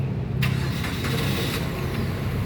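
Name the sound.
Suzuki Karimun Wagon R 1.0 manual car engine starting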